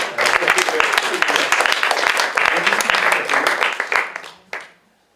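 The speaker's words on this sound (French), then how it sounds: "on peut vous applaudir" A small audience claps for two performers after a staged fight scene in a theatre piece; close, distinct hand claps with a few voices mixed in, fading out with a last isolated clap.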